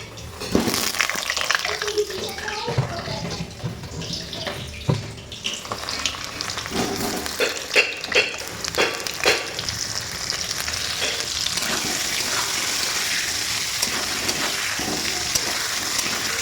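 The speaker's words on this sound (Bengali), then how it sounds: "ফার্স্টে আলুটাকে ভেজে নেব" Potatoes fry in oil in a home kitchen ahead of a Sunday chicken kosha, a steady crackling sizzle with clattering stirs and spatula knocks early on, then a smooth continuous fry.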